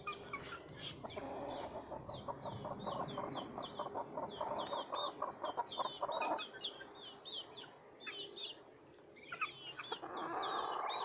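Chickens clucking in a busy yard, with repeated short calls and bird chirps over steady background noise.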